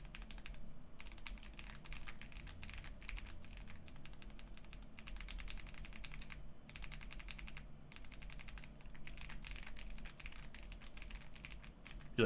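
Rapid typing on a Polaris mechanical keyboard fitted with silent switches. Close, soft clicks and muted thocks arrive in quick bursts with short pauses, alone over a low room hum.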